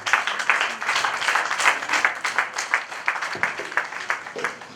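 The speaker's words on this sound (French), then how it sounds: "On va la accompagner avec des applaudissements." A crowd at a solidarity gala applauds steadily, a dense ongoing patter of many hands at moderate level, with no one talking.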